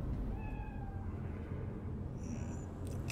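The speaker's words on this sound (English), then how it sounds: "Cat noise." A cat in Cyberpunk 2077 gives a couple of short, thin meows over a steady, dense game ambience, with a higher chirp near the end; no one talks.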